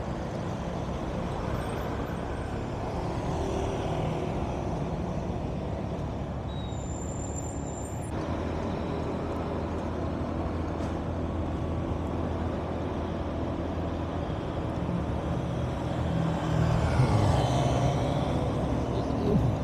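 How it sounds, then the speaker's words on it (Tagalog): Road traffic rolls along Mindanao Avenue near a toll exit in an industrial area, a continuous broad roar of cars with passing trucks that swells louder near the end, no voices. "Light to moderate traffic ngayon dito sa Mindanao Avenue"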